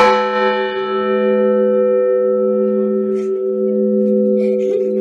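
A single large church bell struck once during Easter ringing, its deep ringing tone sustaining and slowly fading, loud and close, with faint voices in the background.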